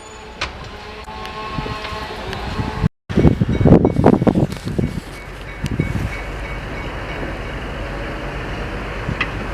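A train rumbles along the rails on a first test run on Vancouver Island, with a loud rolling roar and clatter swelling after a brief dropout, then easing into a steadier wind-blown rumble, close by.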